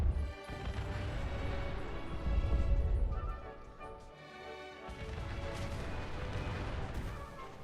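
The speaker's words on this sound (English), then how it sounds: "That's a lot of explosions." Dense, continuous barrage of video game booms and crashing blasts rolling on for several seconds, loud and layered with a brief lull midway.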